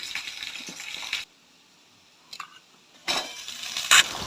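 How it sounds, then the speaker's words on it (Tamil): Garlic, dried sundakkai and shallots sautéing in oil for a garlic curry, a close hissing sizzle that cuts out for a moment and then returns with light stirring clatter, no talking. "பூண்டு, எண்ணெய், சுண்டவத்தல், வெங்காயம் எல்லாம் சேர்ந்து வதக்கி எடுத்துக்கணும்"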